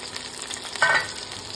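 Paneer pieces coated in flour and chilli powder go into hot oil in a pan, giving a soft background hiss that rises to a brief, brighter sizzling burst partway through.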